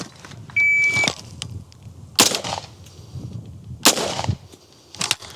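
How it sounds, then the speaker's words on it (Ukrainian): Two sharp pistol shots ring out loud and close, separated by a long pause of well over a second, with a third burst near the end and a brief electronic beep early on. "Ось така стрільба це не спліт. Це просто два постріли. Дуже велика пауза між ними."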